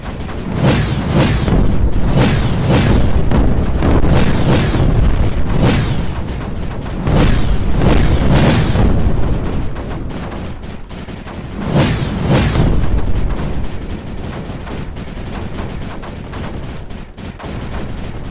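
Guns and missiles firing in the space game Space Crew: dense, loud bursts of rapid gunfire and booming blasts in repeated volleys, nearly continuous with brief lulls between waves.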